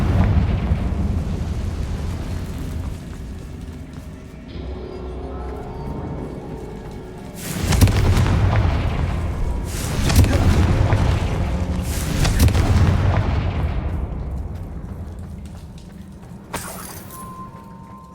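Confringo blasting spell explosions in the video game Hogwarts Legacy: several loud, booming blasts erupt in succession with rumbling tails, followed by a shorter burst near the end, over low ambient game sound.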